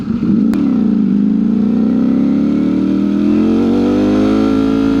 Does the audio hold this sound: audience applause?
no